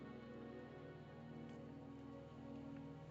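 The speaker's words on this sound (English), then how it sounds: "Don't worry, the rain won't last much longer." Steady rain falls in the video game Wuthering Waves, a continuous even patter that lasts throughout alongside sustained tonal background sound.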